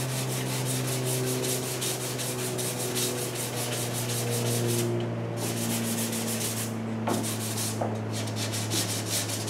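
Steady hand sanding of primer with 180-grit sandpaper, a continuous abrasive rubbing that stays close and loud throughout, with a few brief pauses and shifts in stroke.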